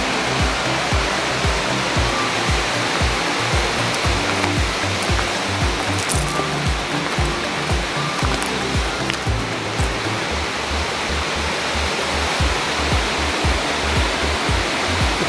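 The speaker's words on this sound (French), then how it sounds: "Et là vous avez la cascade, la grande" A large waterfall roars in a deep, narrow gorge, a loud continuous rushing wash of water that stays steady throughout with no talking.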